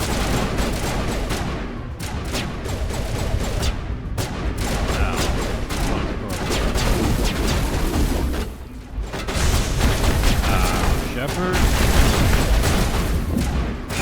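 Sustained gunfire and booming blasts in a Mass Effect 1 Legendary Edition battle, a loud, dense barrage of overlapping shots and impacts running continuously with only brief dips.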